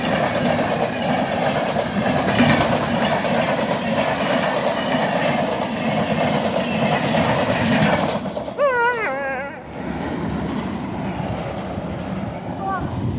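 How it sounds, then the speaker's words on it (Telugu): A train rolls past close by with a loud, steady rumble and clatter of wheels, voices calling out over it, then the roar thins as it moves away. "ట్రైన్ వచ్చింది."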